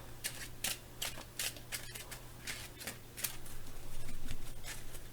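Tarot cards are shuffled in quick riffling bursts, close and fairly quiet, with short pauses between each pass.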